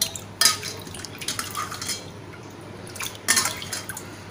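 Goat liver is rinsed with clean water in a bowl, giving close, splashy sloshes and drips with soft clinks of the bowl in a couple of short bursts and no talking.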